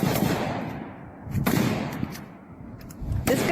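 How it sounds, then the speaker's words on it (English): Gunfire in a video game: bursts of shots cracking over a dense rumbling background, with sharp reports at the start, midway and near the end, loud and close. "This guy is shooting at the people shooting"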